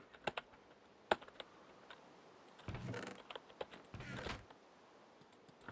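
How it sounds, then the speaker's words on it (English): Sharp, close mouse clicks come singly and in quick clusters while someone records at a computer, with a couple of longer rustling bursts between them in an otherwise quiet room. "you can, like, hear me clicking on the mouse"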